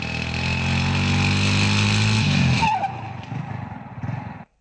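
A motorbike skids and revs through narrow lanes in a Telugu action movie chase, a loud sustained engine drone that breaks off into rougher, sputtering skid noise before cutting out abruptly.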